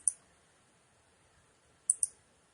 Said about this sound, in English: you're going to hear my clicking to that